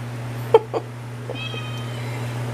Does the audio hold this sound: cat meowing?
yes